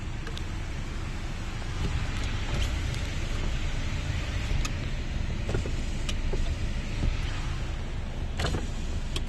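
Inside a car, a low humming motor drones steadily as the power windows go down, with a few small clicks and knocks over the engine's idle.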